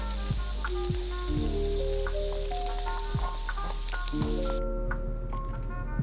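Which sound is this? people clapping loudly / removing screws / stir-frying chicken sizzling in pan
stir-frying chicken sizzling in pan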